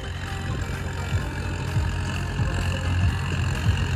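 A Swaraj diesel tractor engine runs steadily at idle without load, a low continuous rumble with a faint mechanical chug throughout.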